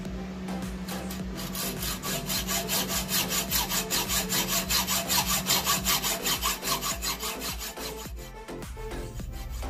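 A hand saw cuts through the end of a metal bolt with a nut threaded on, producing a steady, rhythmic rasp of back-and-forth strokes, loud and close, speeding up slightly before slowing and stopping near the end.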